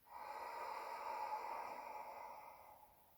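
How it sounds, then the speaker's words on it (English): A single long, deep exhale through the nose during a guided breathing exercise, close and steady, swelling and slowly fading over about three seconds with a faint hum behind it. "And exhale."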